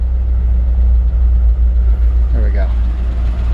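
A 1953 Ford F-100 flathead V8, cold and slightly over-choked, idles close by with a deep, steady low-pitched rumble and even pulsing throb, while a voice briefly speaks over it.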